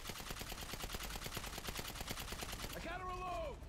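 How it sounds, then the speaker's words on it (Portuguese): Rapid gunfire at a shooting range in the video game GTA 5, a dense run of evenly spaced shots rattling off quietly and continuously, with a voice briefly rising at the end. "Troca de tiro aqui, stand de tiro."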